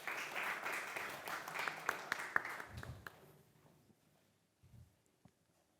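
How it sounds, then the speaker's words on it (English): Audience applause greeting a speaker onto a fintech conference stage, a dense burst of clapping for about three seconds that quickly thins out and fades to near silence, with a few soft thumps after. "Please give a round of applause to Tiago."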